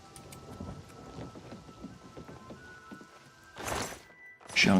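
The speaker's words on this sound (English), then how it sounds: "Look, it's always raining in this game" Rain and thunder in Elder Scrolls IV: Oblivion Remastered, steady patter of rain with soft footstep-like thuds, then two heavy rumbling thunder rolls, the last loud and close.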